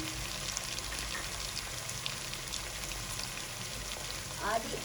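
Diced tomatoes and salt going into a frying pan of fried potatoes for aloo tahari, a steady broad sizzle running throughout with a brief clatter near the end.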